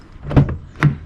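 A Range Rover Evoque door unlatches and swings open with keyless entry, two close mechanical clunks about half a second apart.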